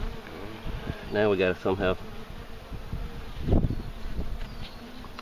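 A dense, steady buzz of many bees in a struggling hive hums close by, with someone speaking briefly over it.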